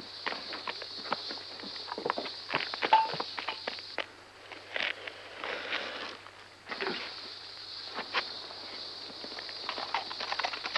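A busy patter of many hooves pounding the ground, like horses running close by, with a continuous hiss and irregular thumps throughout.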